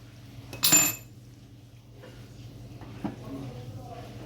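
Metal spoon and pot clatter while egg curry with taro is poured into a serving dish, a sharp clink and scrape followed by softer scraping and a later tap, with a voice talking over it.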